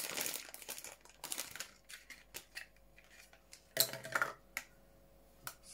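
Packaging from a movie-themed Zavvi Z Box mystery box crinkles, crackles and tears, with several short ripping and rustling bursts that start and stop irregularly at close range.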